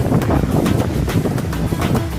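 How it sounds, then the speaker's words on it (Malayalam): Strong, steady wind roars across the microphone at a desert beach where camels are kept, a loud continuous rush of buffeting noise with no pauses. "വിശാലമായ കാറ്റ് ഗൈസ്."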